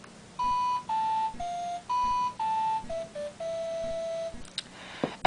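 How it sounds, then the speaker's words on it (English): A Nintendo 3DS Animal Crossing clock app plays its town tune hourly chime, a short sequence of clean, bright electronic tones stepping through a simple melody, each note distinct and separated by brief gaps. "You can also set yourself a town tune"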